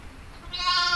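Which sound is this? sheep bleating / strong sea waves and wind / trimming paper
sheep bleating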